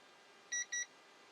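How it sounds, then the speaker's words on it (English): A TOPTES RV propane leak detector gives two short, high electronic beeps in quick succession after calibrating, clear against a quiet background. "Once the device calibrates, you'll hear a beep"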